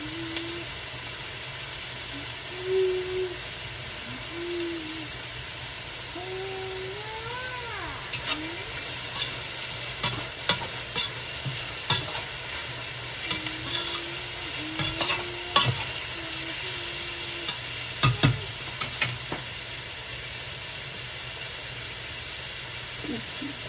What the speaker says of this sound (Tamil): வெங்காயம் பட்டை கிராம்பு எல்லாம் வதங்கி கொண்டு இருக்கு பாருங்கோ